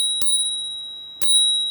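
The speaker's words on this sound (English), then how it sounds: "Check this out, little bell." Two bright rings of a small bicycle bell mounted on a fat tire ebike with 26x4 Kenda tires, each a sharp close ding with a short shimmering ring, about a second apart.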